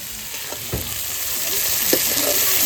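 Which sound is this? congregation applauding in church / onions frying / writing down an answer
onions frying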